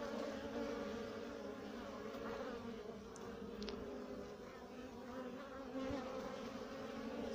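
Honey bees buzz in a continuous, close, steady drone, with a drone bee flying in among them; no voices are heard.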